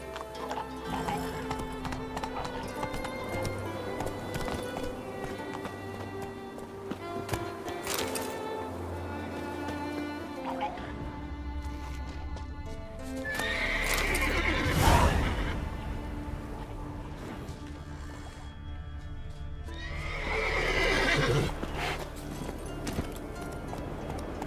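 A horse gallops in The Witcher 3: Wild Hunt, with steady clip-clop hoofbeats running throughout over game music and ambience, and swelling whooshes near the middle and end.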